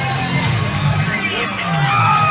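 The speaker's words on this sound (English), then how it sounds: "this crowd is loving it" Arena crowd roaring and cheering after a second-round TKO win at a women's MMA event, a dense, loud, sustained wall of shouts and whoops with commentator voices mixed in.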